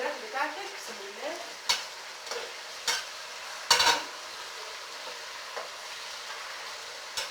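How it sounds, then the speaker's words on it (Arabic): Chicken and onions frying in a pan, stirred with a utensil: a soft steady sizzle broken by a few sharp scraping clacks against the pan, close up. "بتقلبي بقى الفراخ بتاعتك"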